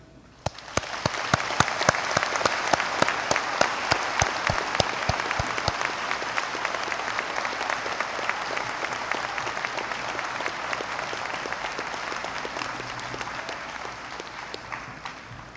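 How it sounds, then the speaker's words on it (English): A school Veterans Day program audience applauds Army veterans with sustained clapping. It starts with sharp, distinct claps, then thickens into a steady, even roar that lasts about fifteen seconds. "For your applause, the Army."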